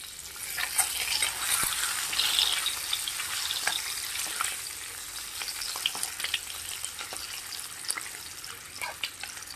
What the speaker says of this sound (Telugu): ఆయిల్ అయితే వేడైపోయింది ఇలా వేసుకొని ఫ్రై చేసుకోవాలి